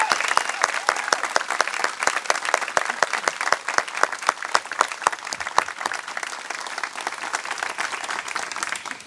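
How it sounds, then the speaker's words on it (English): An audience at a school closing exercises ceremony gives a homeroom class a round of applause, with dense, steady clapping from many hands that fills the room for the whole stretch. "Let's recognize Mrs. Bachtel's homeroom class with a round of applause."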